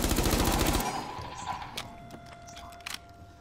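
Sustained automatic gunfire from the game Rainbow Six Siege rattles loudly for under a second, then gives way to a quieter scene with a few sharp distant shots and impacts.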